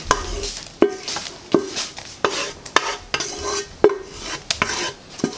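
A spoon stirs a corn mixture in a pot, scraping and knocking against the sides in regular strokes about every three-quarters of a second, close and clear with no talking.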